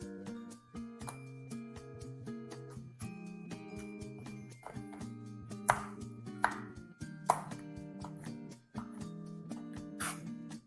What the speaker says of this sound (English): all I'm doing here is chopping up the chocolate in smaller bits